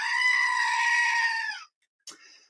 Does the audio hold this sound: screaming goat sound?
yes